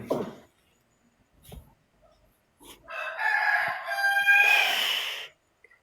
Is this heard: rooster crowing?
yes